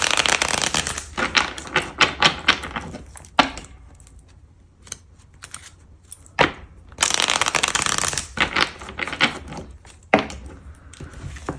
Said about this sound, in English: I gotta shuffle it in 2 different parts.